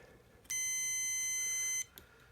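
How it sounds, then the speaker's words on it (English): A multimeter on continuity mode beeps while probing traces on an N64 game cartridge board, one clean steady tone lasting over a second, then cutting off with a faint click after. "it'll usually make a beep when there is no resistance"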